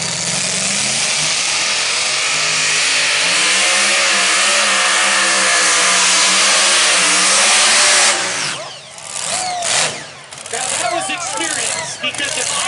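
At a pulling event, a pro stock diesel tractor roars loud and close, its pitch rising and falling for about eight seconds. The roar then drops away and voices carry over the fading engine.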